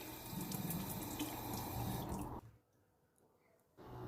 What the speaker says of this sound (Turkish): Burada yüzümü yıkıyorum, uyanır uyanmaz.